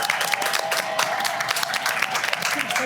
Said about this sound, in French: S'il vous plaît, est-ce qu'on peut applaudir les invités?